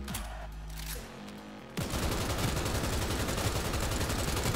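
Gunfire in the video game Cyberpunk 2077, with fast bursts of shots rattling continuously and loudly after a quieter lead-in of game ambience, with no talking.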